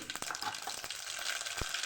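Sharp popping and crackling as mustard seeds sizzle in hot oil with cloves, a quick burst of tiny spatters close by.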